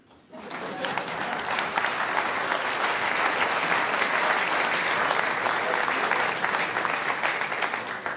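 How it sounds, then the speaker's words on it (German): Sustained applause from an audience rises quickly and holds steady for several seconds, dense clapping at moderate distance with no speech. "vielen Dank für den Applaus"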